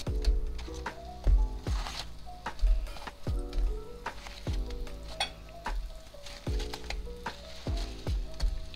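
Previously cooked cauliflower pieces dropped one by one into a sauce, landing as repeated soft thuds and clinks over a steady sizzle.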